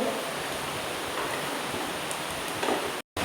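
Heavy monsoon rain in Kerala makes a steady, dense broadband hiss that holds level throughout and breaks off briefly near the end.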